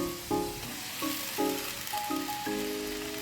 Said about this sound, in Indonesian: lanjut masukkan minyak dan diaduk-aduk sampai tercampur rata dan matang